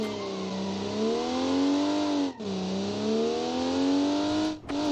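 A 1980s Japanese sedan in the BeamNG driving game, its engine revving up and down in smooth sweeping pulls, loud and close with two brief dips where the throttle drops, no voices over it.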